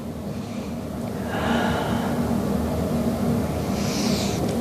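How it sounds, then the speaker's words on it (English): A long, airy exhale during a restorative Pilates exercise, with a soft breathy swell rising near the middle and another at the end, close and fairly quiet with no talk. "And exhale."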